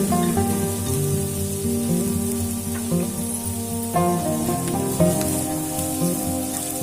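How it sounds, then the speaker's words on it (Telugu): Onions and green chillies frying in hot oil in a kadai, a steady crackling sizzle like rain on a surface, moderately loud and close, with faint clinks over a low background hum and no talk. "ఇప్పుడు ఆయిల్ వేడెక్కిన తర్వాత ఆనియన్ పచ్చిమిర్చి వేసుకోవాలి."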